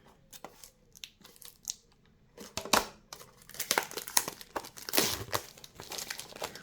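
Plastic packaging crinkling and tearing as a packaged craft storage organizer for distress inks and ink pads is opened, with scattered rustles at first that build into denser, louder crackling and crumpling bursts close by.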